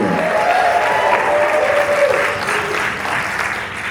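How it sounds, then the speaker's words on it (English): Wedding guests in a marquee burst into sustained applause and cheering for the bride's parents, a dense, loud wash of many hands clapping with whoops mixed in, holding steady and easing slightly toward the end. "raise your glass, clap your hands, whoop, whatever, for Shri and Indu"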